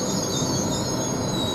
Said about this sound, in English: Now this train is now leaving now, which is 801 109, going towards London King's Cross from Newcastle.